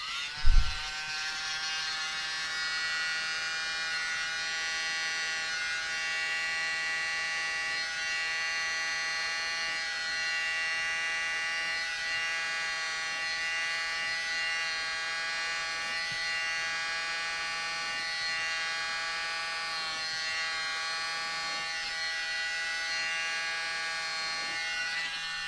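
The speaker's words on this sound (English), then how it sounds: "Now I'm using the mini blower" Mini blower used while painting, starting with a click and then running as a steady high-pitched electric buzz with strong harmonics, close and continuous for the whole stretch.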